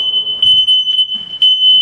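A smoke detector sounds its test alarm: a steady, loud, high-pitched electronic beep continuing unbroken through the short clip, with faint room noise and brief low rustles underneath.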